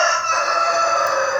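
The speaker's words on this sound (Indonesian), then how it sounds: "Ada ayam nih." A rooster crows once in a long, loud, sustained cock-a-doodle-doo that fills the moment, close by and alone, with no speech.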